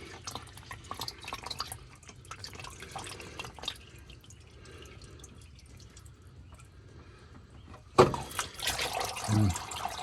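Engine oil drains from a 2021 Ford Super Duty 6.7 Powerstroke diesel into a drain pan, a soft steady trickle and drip that turns louder and splashier near the end as the flow picks up.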